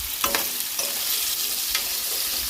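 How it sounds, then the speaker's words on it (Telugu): Potato pieces tossed into a hot pan and stirred while frying, a continuous close sizzle broken by a few sharp scraping strokes of the spatula. "ఈ ఆలు ముక్కలు అయితే వేసుకొని కలిపేసుకోవాలండి"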